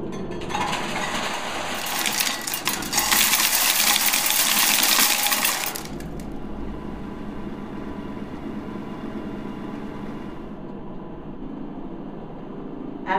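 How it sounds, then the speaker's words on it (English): A cup of gravel poured into the spout of a Gravelator, stones rattling and pinging against a metal plate, a dense clattering rush that peaks for a few seconds and then settles into a steady rolling rumble. "pour a cup full of gravel into the extension spout"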